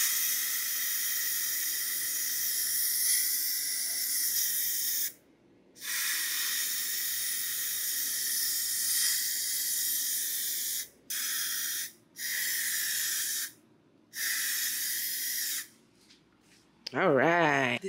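Aerosol top coat sprayed onto painted closet handles in long hissing bursts, several sustained sprays broken by short pauses, close and fairly loud, with a brief rattle of the can near the end.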